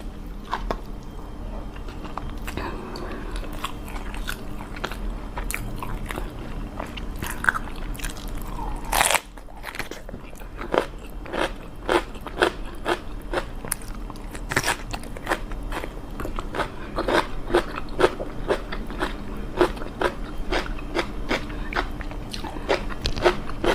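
Close eating sounds as rice mixed with Burmese-style fermented fish chili paste is eaten by hand: continuous wet chewing with many sharp crunchy clicks scattered throughout, loud and intimate, without talking.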